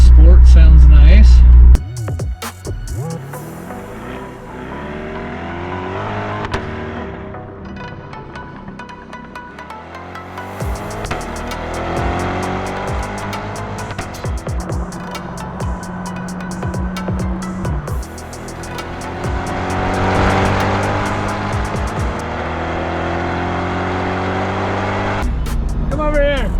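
A McLaren 720S engine in sport mode drones steadily while driving, with rising and falling rev sweeps and a few louder surges, heard close beneath people talking.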